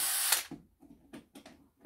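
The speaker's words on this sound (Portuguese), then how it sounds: "Então eu vou soltar esse parafuso" A power tool loosening a screw while assembling a motorhome, a brief loud whirring burst at the start, then short ratcheting clicks and scrapes, close and alone.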